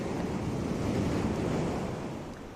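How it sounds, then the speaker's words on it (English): Sea waves surge and break on a shore as a radio drama sound effect, a steady broad roar that swells and slowly fades over a few seconds with no voices. "Listen to the sea."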